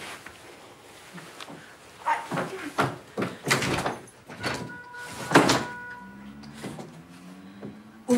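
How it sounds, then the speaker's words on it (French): A door is opened and banged several times, giving a run of loud, close knocks and rattles with brief quiet gaps between them. "Cette putain de porte."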